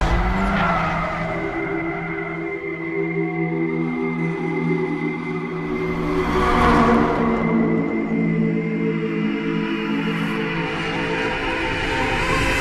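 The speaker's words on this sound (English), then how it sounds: "They get in a really long, cool car chase scene. They drift through a crowd of people" Cars drift through a Tokyo street chase in a film scene, tires screeching in a long sustained squeal over engine roar, loud and continuous with a swell midway.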